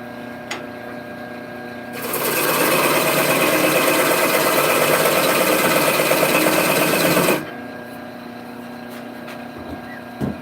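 A wood lathe spins up while tenons are turned on a large wooden top, giving a loud, steady whirring roar that lasts about five seconds before cutting off abruptly into quiet room noise.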